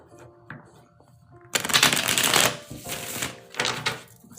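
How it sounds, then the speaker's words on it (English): A single deck of tarot cards is shuffled by hand in two quick, close, crackling bursts, with near silence before and between them. "my single deck shuffle is pretty poppin', not gonna lie"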